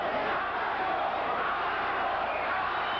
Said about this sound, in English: The crowd yelling macho for Aranda.